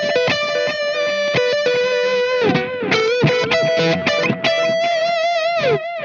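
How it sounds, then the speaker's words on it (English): An electric guitar runs through the faux tape echo mode of a Wampler Catacombs delay/reverb pedal, playing sustained notes and quick phrases whose repeats waver slightly in pitch and trail off behind each line, loud and close with no talking. "this is quite an interesting one here, the faux tape echo"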